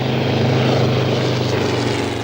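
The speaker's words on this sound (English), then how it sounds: "Larger passenger airliners were built on this success, such as the DH-66 Hercules. With 3-engine safety, it flew up to 12 passengers" A de Havilland DH-66 Hercules three-engine propeller airliner drones loudly and steadily, its piston engines giving a thick, even buzz with a firm low throb throughout, close and continuous with no voices.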